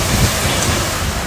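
Steady, loud rain drenches the area outside a hotel in Scotland, a dense wash of hiss and patter with wind-like rumble and no clear breaks, filling the short moment alone.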